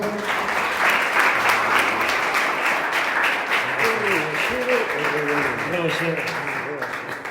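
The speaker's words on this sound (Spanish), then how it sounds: "vamos a recibirlo con un fuerte aplauso" A church congregation claps loudly and steadily to welcome a preacher to the pulpit, with a voice speaking over the applause in its second half.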